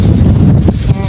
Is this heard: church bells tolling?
no